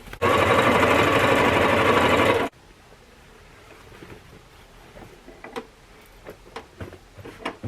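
A sewing machine runs in one fast, loud burst of about two seconds while stitching belt loops onto shorts, followed by quiet handling clicks and fabric rustles.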